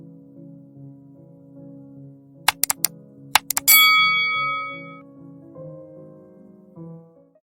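A few quick clicks followed by a bright, ringing chime that decays slowly, then a softer tone near the end.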